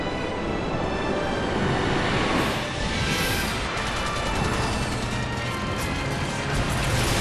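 A train coming under fire in the video game Final Fantasy XIII, a dense continuous roar of rumbling rail noise mixed with rapid gunfire and crashing impacts, loud and unbroken throughout.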